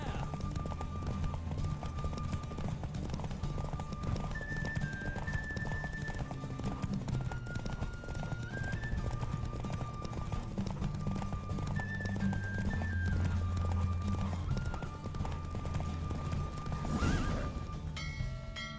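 Horse hooves clip-clopping at speed with occasional neighs in The Witcher 3, steady rhythmic galloping under a continuous game music score, close and prominent throughout.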